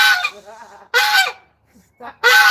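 A goose honks loudly outdoors on a sunny day in three harsh, close bursts separated by brief quiet gaps.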